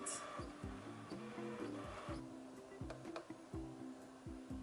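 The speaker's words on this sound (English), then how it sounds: "It's printing the first sheet" A new printer runs a sheet of sticker paper in a continuous mechanical whir, with repeated rhythmic carriage sweeps and stepping pulses, fairly close and steady throughout.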